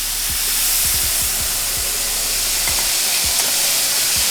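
Chicken broth poured into hot oil and flour in a pan, giving a loud, steady sizzle and hiss with soft bubbling pops, heard alone without talk.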